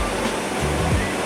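Big waterfall in a forest canyon pouring with a steady, loud broadband roar that fills the whole moment without pause.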